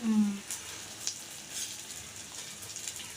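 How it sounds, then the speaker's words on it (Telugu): Flattened rice (poha) frying in ghee gives a soft, steady sizzle that stays faint and close throughout, with no speech over it. "అదే నెయ్యిలో అటుకులు వేపించుకుంటారు"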